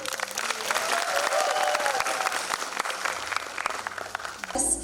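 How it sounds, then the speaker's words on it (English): Audience applause and some cheering swell at a Miss Universe Nagaland beauty pageant, a dense, full patter that eases toward the end before a brief burst of other sound. "Ladies and gentlemen, shall we all give her a big round of applause again?"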